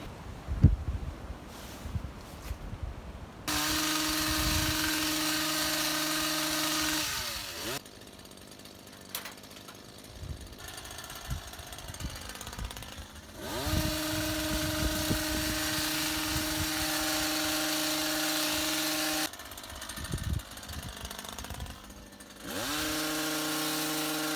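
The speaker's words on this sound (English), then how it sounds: "So that was a quick demo of the Stihl HS56C, bit of trimming on this Leylandii here." A Stihl HS56C petrol hedge trimmer cuts a Leylandii hedge, its engine revving in long loud bursts of steady buzzing, dropping to a lower idle between cuts, close by with no talk.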